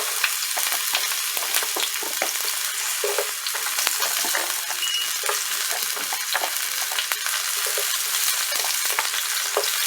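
Sliced zucchini fries in a pan, a steady bright sizzle with scattered pops and crackles running unbroken and close, with no voices over it.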